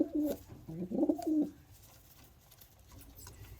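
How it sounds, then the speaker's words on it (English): Pigeons in a loft give a couple of soft, close coos in quick succession, then the space settles into quiet low background hum. "This is actually quite a big pigeon too"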